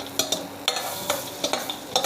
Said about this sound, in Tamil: முந்திரி போட்டு இதை நல்லா கிண்டி விட்டுக்கலாம்.